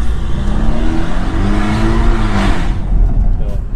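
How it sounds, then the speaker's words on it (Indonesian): A car without a dual-clutch gearbox, running updated software, accelerates hard from first up through fourth gear, its engine note rising and dropping with each shift, loud and close, with a voice talking over it. "akselerasi jarak pendek, kita udah shifting dari gigi 1 sampai ke gigi 4 tadi"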